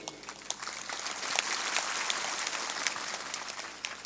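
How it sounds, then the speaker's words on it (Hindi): Audience applause during a Hindu spiritual discourse, a faint, steady patter of many hands clapping together without talk. "थोड़ा जोर से ताली बजाया करो।"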